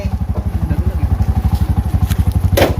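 A motorcycle engine runs close by in a fast, steady pulsing rhythm, loud and continuous, with a rattling clatter on top and a brief burst of noise near the end.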